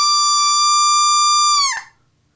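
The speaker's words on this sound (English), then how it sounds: "If you take your spec call and just blow into it" A goose spec call blown with straight, clear air gives one steady, bright, whistle-like tone held for about a second and a half, then a quick squeak as it breaks off, alone and close.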